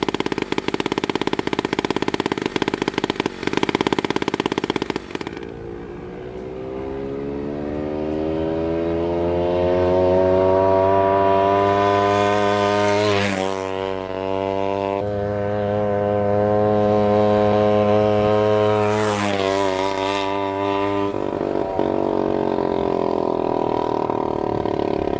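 A pocket bike fitted with an FMF exhaust makes speed runs, its small engine buzzing loudly as revs climb steadily through rising and falling passes, loud and continuous with no talking.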